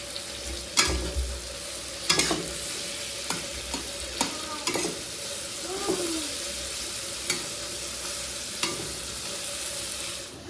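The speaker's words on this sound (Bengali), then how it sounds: "পেঁয়াজগুলো লাল লাল করে ভাজা হয়ে গেছে।" Onions fry in a pan for a home-cooked meat dish, a steady sizzle broken by repeated sharp scrapes and clacks of stirring at irregular intervals, close and with no voices.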